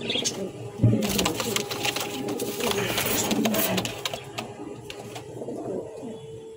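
A running pair of racer pigeons coos close by amid a busy loft, with bursts of wing flutter and clatter and soft speech in the background.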